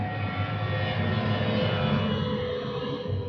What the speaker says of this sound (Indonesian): Pesawat bunyi kan jadinya?